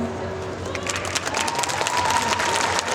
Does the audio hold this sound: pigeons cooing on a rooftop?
no